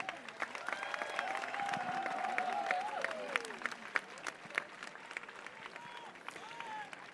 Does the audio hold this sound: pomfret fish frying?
no